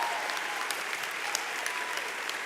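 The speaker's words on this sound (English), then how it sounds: "One round of applause, please." Steady applause from an audience at a school commencement ceremony, a dense, even wash of many hands clapping with a few louder nearby claps standing out.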